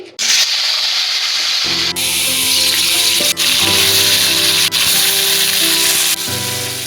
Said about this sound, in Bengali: আমি এখানে সিম ভাজা করছি